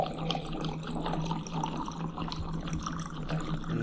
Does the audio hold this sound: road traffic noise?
no